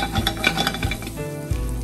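Aubergine with cherry tomatoes, salt and black pepper sizzles steadily in a pan while being stirred, with soft scraping and utensil clinks over the frying noise.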